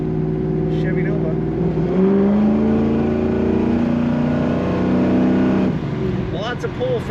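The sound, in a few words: 1972 Chevrolet Nova engine revving while driving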